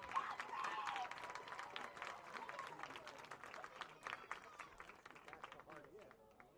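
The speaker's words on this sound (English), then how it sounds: "please give a round of applause to our class of 2025 marching band" Crowd at a high school football game applauds the marching band members, a steady wash of clapping and cheering heard fairly faintly from a distance throughout.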